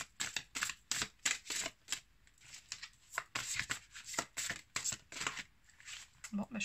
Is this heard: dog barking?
no